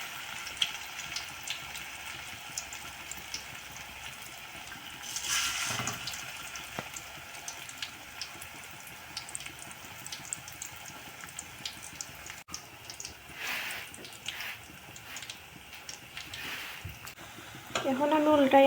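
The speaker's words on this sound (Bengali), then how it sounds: "তেল গরম হয়ে গেলে আমি এখানে ছাড়ি দিলাম পকোড়ার লাগিন।" Potato pakoras dropping into hot oil in a kadai and frying with a continuous low sizzle, with a few louder bursts of bubbling and a short stretch of nearby speech.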